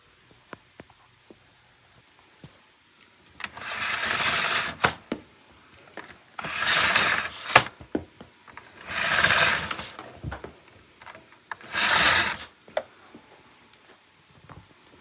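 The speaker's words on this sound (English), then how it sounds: "And we're gonna vacuum that up too." A Hoover vacuum cleaner switches on in four separate bursts of a few seconds each, sucking debris from the floor, with clicks and rattles between runs and no voices.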